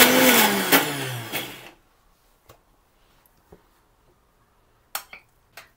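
A mixer grinder grinding vada batter whirs loudly for under two seconds, then cuts off, leaving a quiet room with a few scattered clicks and knocks afterward.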